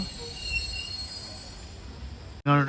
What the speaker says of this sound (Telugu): ఇది చూడండి ట్రైన్ వచ్చేసి